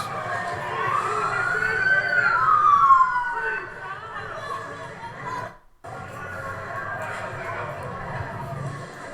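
A police car siren wails with a rising and falling sweep, loud and fairly close at first, then fades into background noise and shouting voices.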